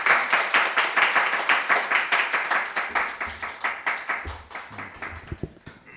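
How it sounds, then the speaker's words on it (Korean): A congregation at a Friday church service claps to welcome a visiting speaker. The clapping is loud and rhythmic, in unison at a steady beat, then loosens into scattered claps at the end. "뜨거운 박수로 환영하도록 하겠습니다"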